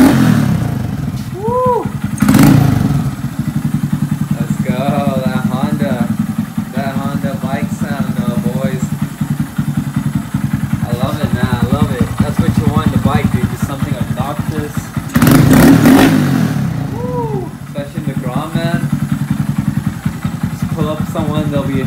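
A 2017 Honda Grom motorcycle engine idling loudly with two sharp revs, while someone talks over the steady engine throughout.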